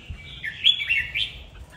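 A caged red-whiskered bulbul sings a fast, bright run of warbling chirps, close and clear, alone with no voices.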